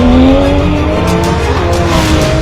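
A Porsche 911 GT3 RS rally car races hard along a street stage, its engine note climbing loud and close as the tires squeal through a corner, with no voices.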